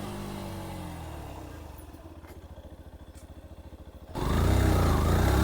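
A Yamaha FZ-S Hybrid motorcycle under a front ABS braking test with single-channel front ABS: a steady engine drone shifts into a rapid pulsing rattle as the brake modulates, then a louder low rumble surges in near the end.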